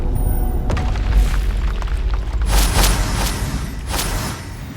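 A deep booming blast from the Confringo fire spell in the Hogwarts Legacy video game, loud and rumbling with several heavy bursts across a few seconds and no talking.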